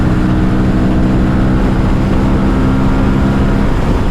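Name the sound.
Aprilia Tuono 457 motorcycle accelerating at full throttle while overtaking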